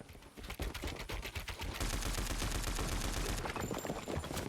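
Dense, continuous automatic gunfire in Fortnite as a player shoots through a shack, loud rapid shots packed closely together with barely a pause throughout.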